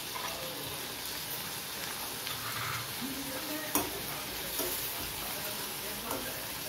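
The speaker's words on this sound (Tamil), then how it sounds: "2 சின்ன தக்காளி வந்து சேர்த்துக்கலாம்" Chopped tomatoes sauté and are stirred in a pan for potato gravy, a dense continuous sizzle with scraping spoon strokes and a clack partway through, steady and close.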